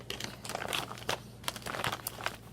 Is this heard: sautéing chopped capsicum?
no